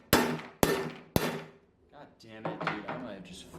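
A cymbal struck three times with a hammer, each blow a sharp, loud metallic clang that rings briefly, followed by someone talking.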